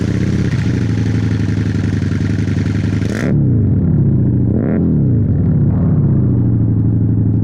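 Naked motorcycle engine started after months unused, running with a steady low rumble that rises into two or three short revs, loud and close, with no talking.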